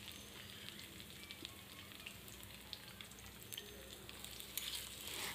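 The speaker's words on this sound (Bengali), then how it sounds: "তেল একটু গরম হয়ে এলে আমি কেটে রাখা পেঁয়াজ কুচি দিয়ে দিচ্ছি।" Chopped onions frying in hot oil for chicken biryani, a steady dense sizzle and crackle that holds at an even level throughout, with a few sharper pops and no voices.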